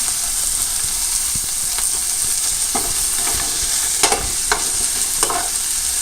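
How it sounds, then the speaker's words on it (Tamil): Beetroot and carrot with chopped onion sautéing in a pan, a continuous close sizzle with several louder scraping bursts from stirring toward the end, no talking. "வதக்கிட்டு அதோட வெட்டி வச்சிருக்கிற உள்ளியையும் சேர்த்து"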